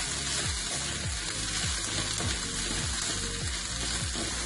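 Black rice with prawns and clams sizzles loudly in a pan while being stirred, a steady frying hiss broken by rhythmic scraping strokes as white wine cooks off.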